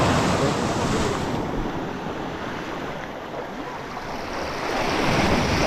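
Big ocean waves break at a beach with a continuous, loud roar mixed with strong wind buffeting the microphone, easing slightly midway before surging again.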